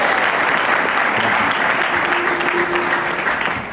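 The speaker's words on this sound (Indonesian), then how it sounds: "Tepuk tangan dong yang muda." Studio audience at an Indonesian television talk show breaks into loud, sustained applause, a dense wash of many hands clapping at once that holds steady for several seconds and fades slightly at the end.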